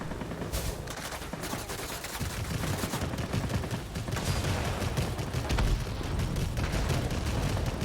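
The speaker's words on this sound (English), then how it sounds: "the anti-aircraft that's trying to take me out" Anti-aircraft guns keep up continuous rapid fire in the World of Warplanes combat flight game, a dense, loud rattle of shots and booms layered over steady engine noise.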